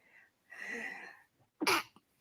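A single sharp sneeze bursts out close by after a breathy intake, followed by a brief quiet exhale.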